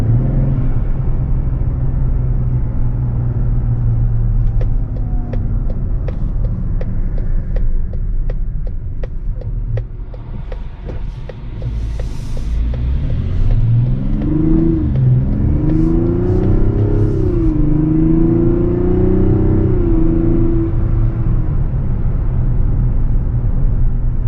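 A 2024 Mazda CX-90 with a 3.3-liter turbocharged six-cylinder engine, a steady cabin rumble that dips briefly, then surges into a strong acceleration with rising pitch through gear changes, loud and close from inside.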